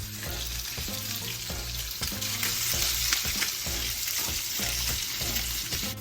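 Crappie fillets frying in oil in a pan on medium heat, a steady close crackling sizzle with soft stirring scrapes throughout, no voices.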